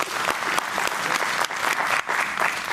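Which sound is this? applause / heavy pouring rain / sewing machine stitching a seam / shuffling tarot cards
applause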